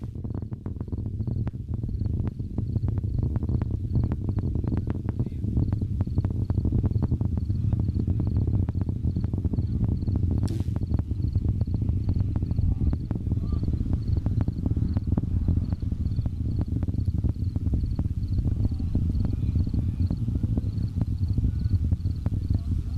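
Faint, regular cricket chirps pulse steadily over a loud low rumbling drone, continuing evenly for the whole stretch with no voices.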